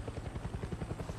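The rotor of a helicopter in the video game Far Cry 6 beats in a rapid, steady chop with a low rumble, close and continuous, and no voices can be heard over it.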